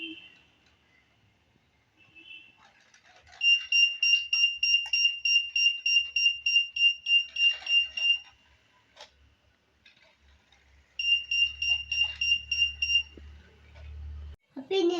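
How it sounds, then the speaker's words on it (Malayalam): A buzzer in an Arduino security system with an ultrasonic sensor beeps in two bursts of rapid, evenly spaced high-pitched beeps, separated by a pause, in a quiet room. "ഈ കാറി സെൻസറിന്റെ ഫ്രണ്ടിൽ കൂടെ പോകുമ്പോൾ ബീറ്റ്സ് ഒന്ന് കേൾക്കാം."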